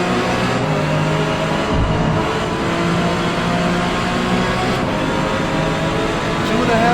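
A race car engine in a racing video game drones loudly and steadily throughout, holding a dense constant roar with slight pitch shifts and no clear pauses.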